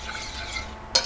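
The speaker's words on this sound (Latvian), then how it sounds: "Tagad mēs karstā mērcē pievienojam šo te cieto sieru." A spoon stirs hard cheese into a pot of hot cream sauce, a soft continuous scraping and bubbling that ends with a sharp metallic clink against the pot.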